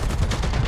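A minigun fires in a Predator video game, a rapid, loud, dense rattle of shots running without pause through a very short burst.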